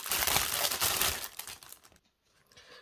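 A plastic bag crinkles loudly and close for a second or two as resin molds are stored in it, then the rustling fades to near silence.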